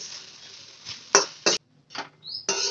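Spoon stirring and scraping through sabudana khichdi in a pan, a few short, close metallic clinks and scrapes separated by brief pauses.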